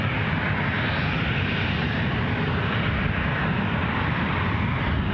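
A Ryanair Boeing 737 departs Newcastle International Airport bound for Faro, its jet engines a loud, continuous, broadband roar that stays strong and steady from start to finish.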